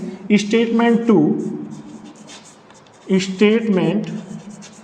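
Marker or chalk writing on a lecture board during a Class 10 maths lesson, two bursts of scratchy strokes separated by a short pause, close and clear under a teacher's voice.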